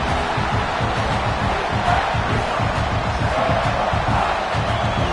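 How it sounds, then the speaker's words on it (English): At a Tennessee versus South Carolina football game, a stadium crowd roars and cheers in a dense, sustained wall of noise that stays loud and constant throughout. "This crowd bringing the energy and noise early."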